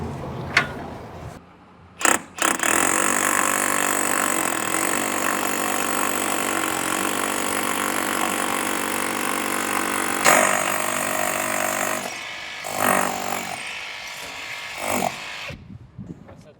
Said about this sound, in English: Holes are drilled.